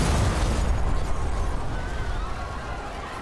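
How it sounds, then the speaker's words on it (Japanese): A big firework blasts in Yakuza 1 & 2 HD Edition, a loud, heavy boom whose broad rumble slowly decays over several seconds. "カムロ中に派手な花火がドカンと一発打ち上がるんです。"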